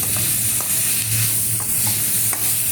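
Tomato frying in a pan for veg pulao sizzles loudly and continuously, close by, with steady stirring and occasional scrapes over the constant hiss.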